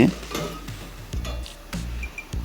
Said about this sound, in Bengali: আমরা ভালো করে নাড়াচাড়া করে নেব